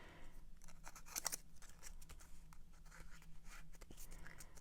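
Scissors snip through paper while a butterfly craft is cut out, with quick close cuts under a steady low background hum and no talking.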